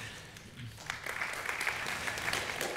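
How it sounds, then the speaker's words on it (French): Faint, distant audience applause at a DevFest Nantes developer conference talk on cloud patterns, a soft steady patter of clapping that swells slightly after the first second. "Pas mal quoi, on peut l'applaudir"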